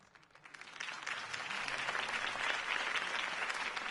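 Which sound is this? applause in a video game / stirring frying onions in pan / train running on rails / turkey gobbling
applause in a video game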